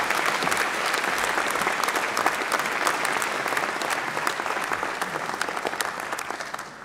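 Sustained audience applause at a university graduation ceremony, a dense, loud wash of clapping from a large crowd that stays level and continuous for the whole stretch, easing only slightly near the end.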